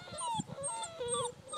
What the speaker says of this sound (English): That was the first howl